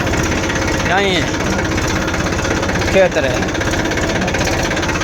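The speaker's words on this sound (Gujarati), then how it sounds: "અત્યારે છે ને આપણે ટ્રેક્ટર ચાલુ કરીએ." A farm tractor engine runs steadily after starting, a loud continuous rumble with a rapid knocking beat, while someone talks over it.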